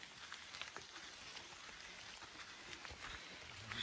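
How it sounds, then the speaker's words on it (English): Rain falls near Arenal Volcano in Costa Rica, a faint, steady hiss of drops pattering on surfaces with no voices. "It's rainy."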